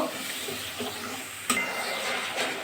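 Potato and pointed gourd curry is stirred in a pan, a close, continuous sizzling scrape with a sharp clack of the utensil against the pan partway through.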